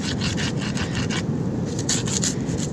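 Rapid back-and-forth scraping of a tiger clam shell, gritty and rasping like sawing, continuing close and loud in quick repeated strokes.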